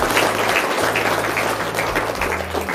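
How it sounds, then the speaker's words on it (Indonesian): An audience breaks into applause, a dense steady patter of clapping lasting a few seconds, moderately loud, with a low hum underneath. "Wow, tepuk tangan dong."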